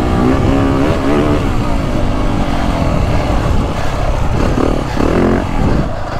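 Two-stroke Beta 300 Race Edition dirt bike engine, heard up close as it rolls off and slows under compression braking, a steady loud burbling drone with shifting pitch, no talking.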